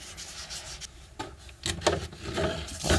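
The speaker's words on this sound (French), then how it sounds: "je le mets avec une petite brosse." Small brush scrubbing vinegar across a limestone-crusted outdoor terrace, a close, steady rubbing rasp that swells louder toward the end, with no talking.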